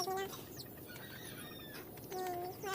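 A hen clucks in short bursts at the start and end, close by, with a few fainter bird calls in between over a steady outdoor background.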